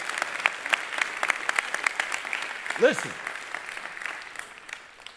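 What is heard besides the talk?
audience applause in chapel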